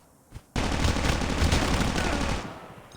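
A sudden burst of loud, dense automatic gunfire in a battle royale game lasts about two seconds before fading, preceded by a single soft thud.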